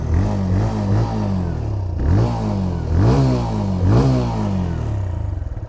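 A TVS Raider motorcycle engine, idling close by, is revved with the throttle in about four short, rising blips that fall back each time, with a rough, buzzy idle between them.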